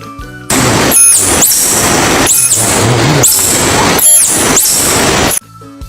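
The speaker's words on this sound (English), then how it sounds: "This is the sound they make when they communicate." A series of loud, shrill squealing calls from a Philippine tarsier repeats in quick bursts, piercing and close, with short gaps between each cry.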